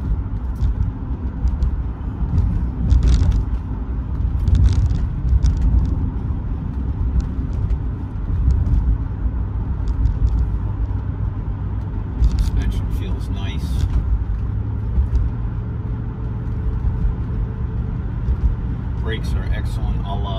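A 1985 Mercedes-Benz 380SE's engine hums steadily while driving, with a low continuous rumble and road noise underneath; someone talks over it throughout.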